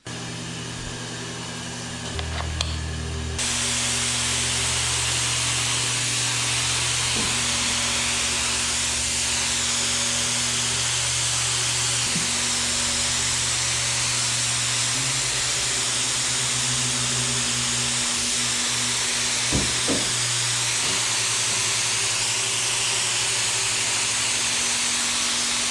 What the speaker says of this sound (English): we're ready to spray our next coat of base